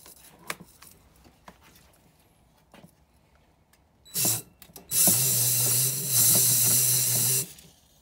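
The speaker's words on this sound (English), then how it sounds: "So I'm gonna put some WD-40 on it." WD-40 sprayed onto a seized, rusty piston from a Yamaha TTR125 restoration: a short hiss burst, then a longer steady spray of about two and a half seconds, close and loud after quiet workshop clicks.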